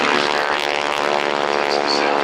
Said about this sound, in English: this next sound coming from the front end of a big Boeing Stearman biplane.